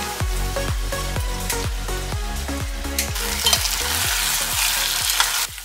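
Yellow and red bell peppers stir-fry in a pan with a loud, constant sizzle, while rhythmic scraping and tossing strokes repeat roughly twice a second over a steady background hum.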